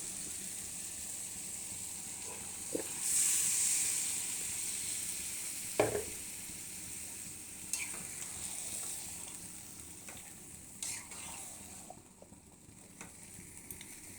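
Marinated desi chicken pieces dropped into fried spice paste in a pan, giving a soft steady sizzle and hiss with a few scattered stirring knocks, fairly quiet and free of talk.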